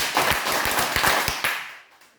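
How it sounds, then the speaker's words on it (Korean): Church seminar audience clapping together in unison, a rhythmic run of five or six sharp, close claps that stops abruptly and leaves a fading room echo. "박수 5번 하겠습니다."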